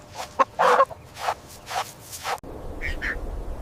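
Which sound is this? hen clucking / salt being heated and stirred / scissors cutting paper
hen clucking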